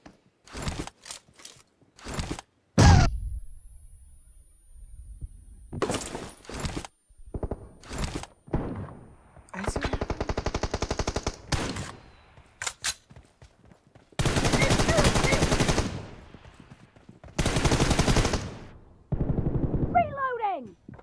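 Repeated bursts of rapid gunfire from a zombie-fighting shooting video game, loud and close, with single shots and automatic volleys separated by short pauses; the last burst trails off near the end.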